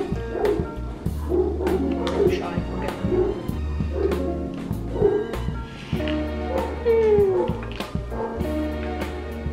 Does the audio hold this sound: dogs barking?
yes